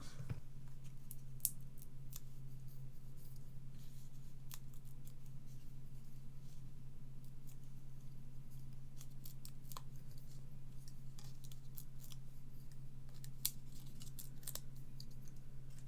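Scissors trimming a flower stem, a scatter of light, sharp snipping clicks at irregular intervals over a steady low hum, close and quiet, with no talking.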